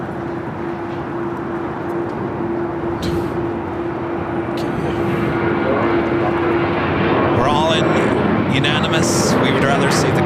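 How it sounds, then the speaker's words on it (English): A China Airlines Airbus A350 jet rolls down runway 24 left at LAX, a steady engine roar that swells toward the end, heard under people talking. "I also have China Airlines A350 rock and rolling down 24 left"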